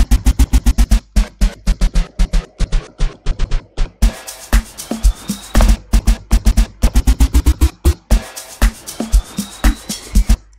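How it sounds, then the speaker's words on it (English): A looped electronic beat plays in Virtual DJ, loud punchy kicks and hits in a steady repeating pattern, stopping briefly between sections as its key is shifted up and down from a keyboard. "I'm going to be playing around with the key now."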